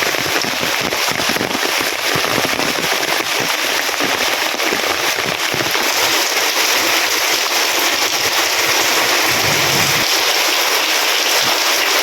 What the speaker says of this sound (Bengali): মঠুলদারে বৃষ্টি হইতেছে